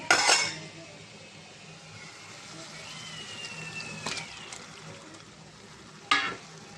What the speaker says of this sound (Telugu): ఈ మసాలా అంతా చికెన్ కట్టుకునే వరకు బాగా కలుపుకుందామండి